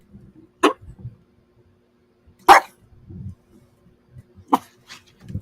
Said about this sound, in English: You're not supposed to bark at the videos that we're looking at.